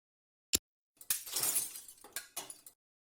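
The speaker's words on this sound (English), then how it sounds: "You smashed the mirror of transparency." A mirror is smashed in an animated feature: one sharp crack, then a loud burst of shattering glass, and tinkling shards that fall and settle over about two seconds, with no voices.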